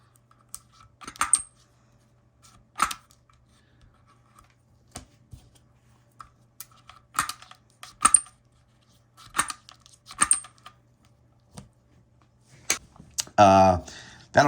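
Cardboard counters for a WW2 board wargame being clipped at the corners, giving a series of sharp, close snips and clicks spaced irregularly, with brief soft handling rustles between them and a denser flurry of rustling near the end.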